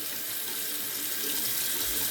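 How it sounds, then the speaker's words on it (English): Water runs steadily from a tap into a mug, a continuous hissing splash with a faint rising gurgle as the vessel fills. "so let's go ahead and fill up our Mount"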